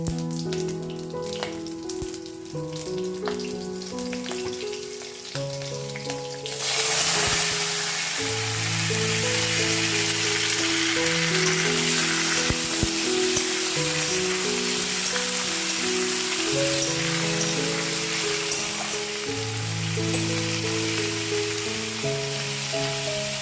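Chillies and cumin hit hot oil with a sudden loud sizzle that sets in partway through and keeps crackling steadily over background music.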